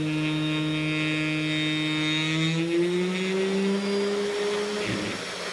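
A 500 W air-cooled spindle motor spins up to full speed, its loud steady whine and tonal hum rising slightly in pitch over a continuous airflow rush, then dipping briefly near the end.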